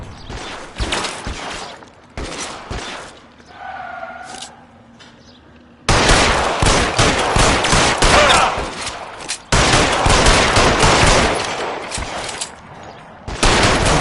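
Video game gunfire in LA Noire, with loud bursts of rapid shots and volleys that stop briefly and then return as a sustained, dense fusillade.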